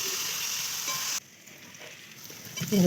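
Food sizzles steadily in a hot pan, a bright crackling hiss that drops suddenly partway, then builds again with a stirring clatter.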